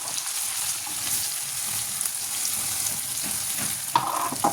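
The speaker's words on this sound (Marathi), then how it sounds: "याचं छानसं परतून घ्यायचं आहे हे वाटण" Coarsely ground masala paste sautéing in a pan for a dried shrimp dry vegetable dish, a steady close sizzle with occasional stirring scrapes and no talking.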